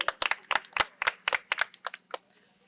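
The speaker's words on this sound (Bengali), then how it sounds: "সকলে একটু করতালি দেবেন।" Scattered hand claps from a small audience at a quiz contest held in a medical college hall, a dozen or so sharp claps thinning out and trailing off into quiet within a few seconds.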